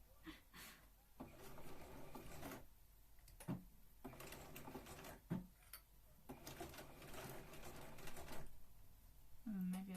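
A sewing machine stitches a Regency dress in several bursts of rapid whirring separated by short pauses, quiet and close, with some rough rattling in the mechanism.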